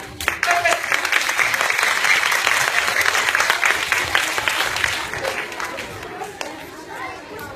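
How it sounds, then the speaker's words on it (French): An audience at a live opening performance of an Indian spectacle show claps loudly for a volunteer; the applause swells quickly, then thins and fades toward the end as chatter and a voice come through. "Par exemple, monsieur, on l'applaudit"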